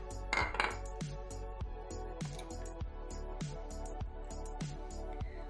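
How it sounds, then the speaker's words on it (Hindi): Eggs cracked one by one against a bowl for an egg halwa, a regular series of sharp clinks and taps roughly every half second, close and soft, ringing faintly against dish and cutlery, with no talking. "सारे 1 बाय 1 अंडे तोड़ के मैं इस डोंगे में डालूंगी।"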